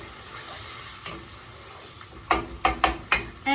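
Oil sizzles steadily in a frying pan as petite diced tomatoes cook, with several sharp bursts of louder sizzling and stirring near the end.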